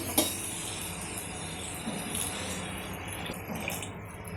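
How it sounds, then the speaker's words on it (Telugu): Hot water pours in a steady, continuous stream over mushrooms cooking for curry in a pan, close and even throughout, with a faint hiss and no one talking. "ఇప్పుడు మనం దీనికి కావలసిన వేడి వాటర్ని దీంట్లో ముక్క మునిగే వరకు వేసుకుందాం."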